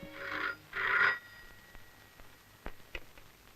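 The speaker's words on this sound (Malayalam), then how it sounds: "ഫോൺ ബെല്ലടിക്കാൻ തുടങ്ങി കുറെ നേരമായല്ലോ" A telephone bell rings in two short, fairly loud bursts, then stops, leaving a quiet room with a few faint clicks.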